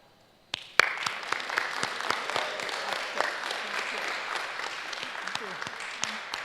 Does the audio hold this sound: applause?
yes